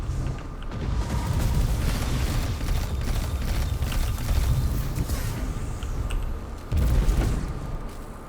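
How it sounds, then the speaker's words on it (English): A grenade blast in the video game Destiny 2 arrives as a deep, rumbling boom under continuous low game noise, followed by a second heavy thump near the end. "just threw a grenade"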